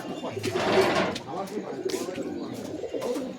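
Pigeons at a home loft coo in low, throaty bursts close by, overlapped by someone speaking, with brief rustles and knocks between the calls.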